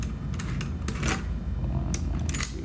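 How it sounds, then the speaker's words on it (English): Screws are removed from the back of an EAX-300 cylinder lock, giving a few close, sharp metallic clicks and taps over a low background rumble. "First thing you're going to want to do is take off the 2 screws on the back here."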